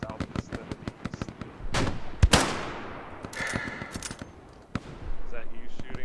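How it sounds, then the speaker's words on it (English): Gunfire in the Hell Let Loose game, World War Two style: sharp single shots and short bursts crack at varying distances, with one loud close blast and ragged echoing volleys in between. "Is that you shooting?"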